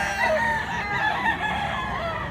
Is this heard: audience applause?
no